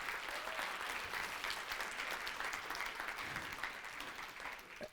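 Steady audience applause fills a hall at a talk on conscious creation, dense and even throughout before tapering slightly at the end, with no voices over it.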